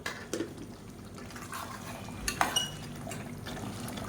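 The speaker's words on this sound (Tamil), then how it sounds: "இப்போ பாருங்கள் நல்லா தலை தலைன்னு கொதிக்க ஆரம்பிச்சிருச்சு" Mutton curry simmering in a pot, a soft, steady bubbling bed with occasional light clinks of a utensil against the pot, close and fairly quiet with no talk.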